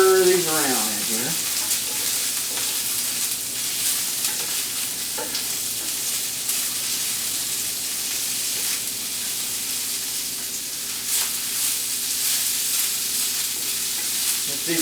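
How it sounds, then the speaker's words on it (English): Beans thrown into hot oil and fat alongside Wagyu, frying with a loud, dense, continuous sizzle and hiss that lasts throughout, with occasional faint stirring scrapes, close and without speech. "we're going to throw some beans in there. There we go. And then we're just going to stir these around in here."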